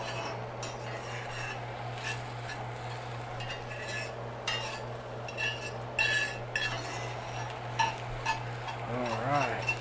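Eggs cooking in bacon grease in a country kitchen pan, with soft stirring scrapes and clinks of a utensil over a steady low hum, fairly quiet and continuous.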